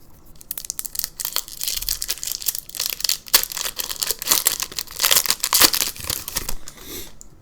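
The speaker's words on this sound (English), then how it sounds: "That opening of the pack is probably really loud in the microphone." Loud foil crinkling and tearing as a 2002 Lord of the Rings TCG booster pack wrapper (Mines of Moria / Two Towers) is ripped open, with dense bursts of crackle close to the microphone for several seconds.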